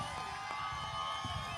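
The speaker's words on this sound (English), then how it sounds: "I could get a rock star applause for blessing this stage." A crowd at the Trans March stage in San Francisco cheers and claps in a steady, dense wash of noise with scattered shouts, loud and continuous throughout.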